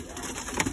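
Pigeons on a farm, including a white pigeon, give a soft brief coo over faint background noise, heard close and alone.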